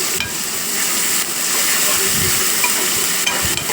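Ginger garlic paste sizzles as it is stirred into frying masala for a Muslim-style biryani, giving a steady close hiss with soft scraping stirs.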